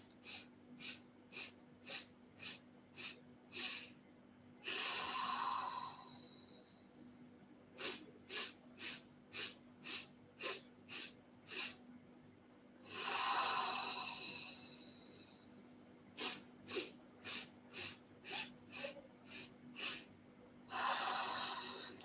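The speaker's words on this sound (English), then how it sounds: "count those sniffs in and then really powerfully exhale" Breathwork during a stress-relief meditation: sets of eight quick rhythmic nasal sniffs in, each set followed by a long, forceful exhale through the nose, repeating three times, close and clear with no talking.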